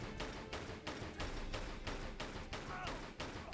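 Gunfire rings out while shooting an enemy in the Tomb Raider III video game, a run of regularly spaced loud shots, about eight blasts at a steady rhythm.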